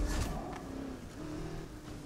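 A car engine in Need for Speed Heat, a short burst of low revving that surges at the start then holds a steady moderate drone with a slight pitch rise, close and fairly quiet, no talking.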